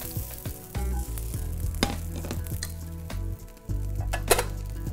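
Mushroom pieces sizzle and fry in hot oil in a pan, with a steady loud crackle, occasional clinks and stirring noises, and no talking.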